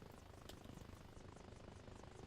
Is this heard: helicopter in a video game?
yes